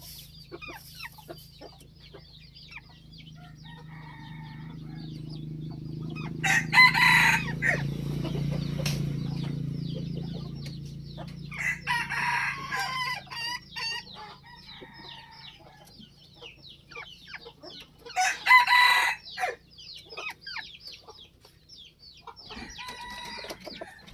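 A breeding rooster crows several times, each call loud and close, with hens clucking and wings flapping in between. A steady low hum runs underneath, and no one speaks.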